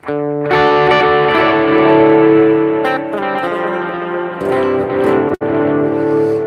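An electric guitar runs through a multi-delay effect, sustained chords and notes with repeating echoes trailing behind each strum, loud and close with no talking.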